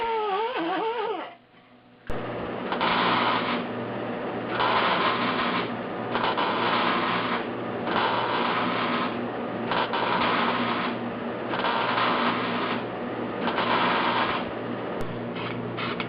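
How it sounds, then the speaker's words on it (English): A wire wheel cleans freshly tacked-in welded sheet metal on a 1976 Mazda RX-5, giving a loud, steady abrasive whir in repeated bursts with short pauses, close by and without talk. "I'll just clean it off with the wire wheel"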